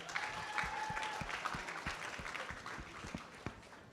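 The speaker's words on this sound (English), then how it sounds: "Could we get a round of applause for our brave audience members?" An audience at a fashion show applauds volunteers from the crowd, continuous clapping with sharp individual claps standing out and a few faint cheers, heard from a moderate distance.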